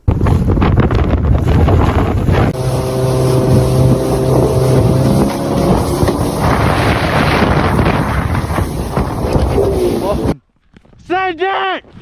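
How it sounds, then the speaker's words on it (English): A speedboat racing across the North Atlantic Ocean, hull slapping and engine roaring through a steady rush of wind noise for about ten seconds, close and loud, before cutting to near silence with a brief voice at the end. "Have you ever been in such a hurry that your boat starts flying?"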